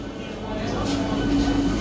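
A Puri to Howrah Superfast Express pulls into a crowded station with a rising rumble that swells and holds, heard under the chatter of people on the platform.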